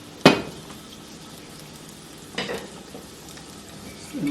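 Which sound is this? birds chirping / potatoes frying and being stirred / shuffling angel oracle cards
potatoes frying and being stirred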